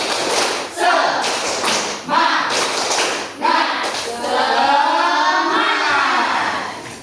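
Class 11 students in a classroom perform the 'tepuk semangat' clapping chant, with several loud bursts of rhythmic group claps and thumps between short stretches of spoken chant, ending in a longer run of clapping.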